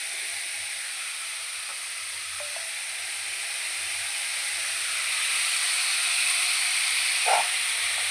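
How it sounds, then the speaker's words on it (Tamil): Onions sautéing in a pan give a soft, even sizzle that swells slightly toward the end, with a faint clink near the close. "வெங்காயம் நல்லா வதங்கிக்கிட்டு இருக்கு"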